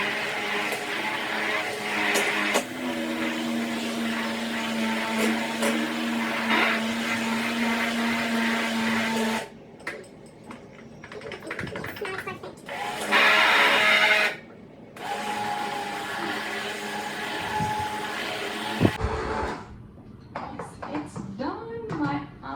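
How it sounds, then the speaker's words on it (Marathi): Mango pulp for aamras whirring in a kitchen blender, a loud steady motor drone in several long bursts with short pauses between them, plus some background voices. "आणि हे मी परत एकदा छान करून असं ब्लेंड करेन."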